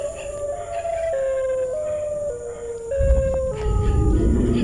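A dog or wolf howls in long sustained tones that step and waver in pitch, heard fairly close and loud over a steady background hiss, with a noisy rumble joining in the final seconds.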